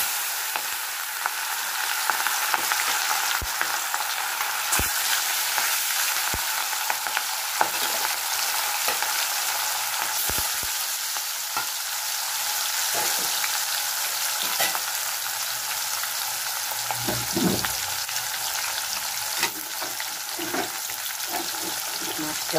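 Katla fish pieces coated in turmeric and chilli powder fry in hot oil in a pan: a steady, loud crackling sizzle runs throughout, broken by occasional scrapes and clicks as the pieces are turned.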